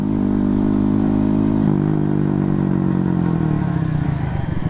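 Stock-sprocket mini moto held in second gear, its small engine droning loud and steady at high revs with a harmonic whine that dips briefly, then sags lower as the bike eases off.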